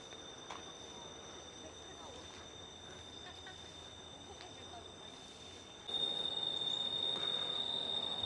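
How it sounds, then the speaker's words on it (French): Steady high-pitched insect buzzing, likely cicadas, fills a Penang rainforest, growing louder midway, with a faint low hum of distant engines beneath. "plus j'entends des moteurs et des cigales"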